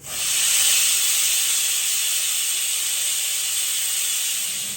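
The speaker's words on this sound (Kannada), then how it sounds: "ಈಗ ಲಿಡ್ ಕ್ಲೋಸ್ ಮಾಡಿದ್ದೀನಿ ಎರಡು ವಿಸಿಲ್ ಕುಗ್ಸ್ಕೊಂಡ್ರೆ ಸಾಕು" A pressure cooker on a kitchen stove vents a steady, loud hiss of steam that holds continuously from start to finish with no talking.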